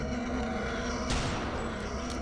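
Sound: sniper rifle gunshots in video game Return to Castle Wolfenstein

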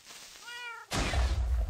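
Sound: cat meowing in a video game (Minecraft lucky block)

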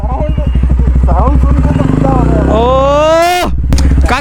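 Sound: superbike engine sound

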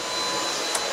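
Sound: vacuum cleaner running

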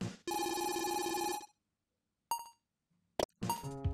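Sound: telephone ringing in video game

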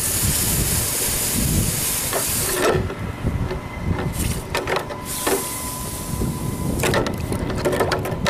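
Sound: hot steel quenching hiss

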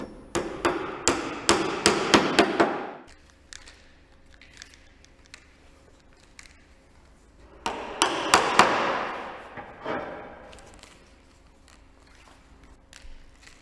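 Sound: hammering corrosion resistant nails into roll flex strip on ridge batten

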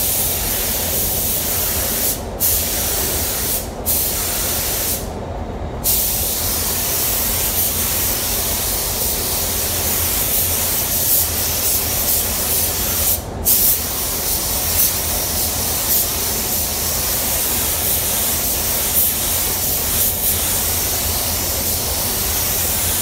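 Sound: spray gun spraying car sealer

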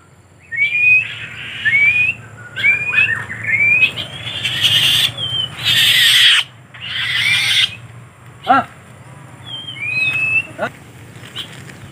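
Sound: black-winged kite (alap-alap tikus) calling

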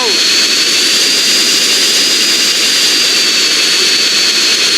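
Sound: aircraft jet engine while flying in GTA San Andreas video game

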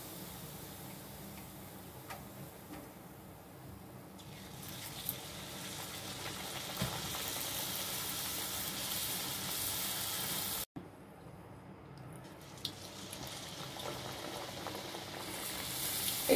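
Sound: luchi frying in oil

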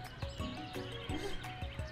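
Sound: horse in video game I Love You Colonel Sanders

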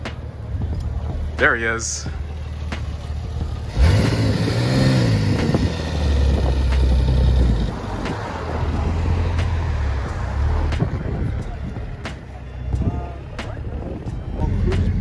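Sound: Porsche 996 Turbo car driving and revving

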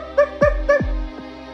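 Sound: pug character barking in a Poppy Playtime video game

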